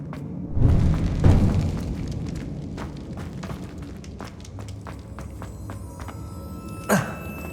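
Revelio spell cast in Hogwarts Legacy: a deep whooshing boom near the start, followed by a string of soft footstep-like taps and a sharp shimmering burst near the end.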